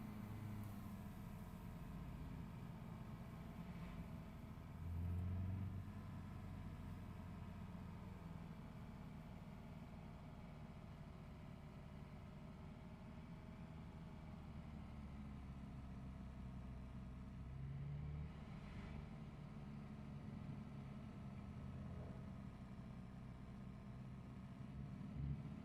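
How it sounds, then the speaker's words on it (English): Low, steady road traffic rumble with engines idling and cars rolling past, a continuous distant drone with a couple of slightly louder swells as vehicles go by, no speech. "Oh, frickin' traffic every single day"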